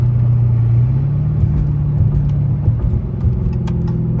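A Dodge Challenger SRT Redeye rumbles deep and loud from close by as it downshifts, its low exhaust drone shifting pitch with scattered crackles.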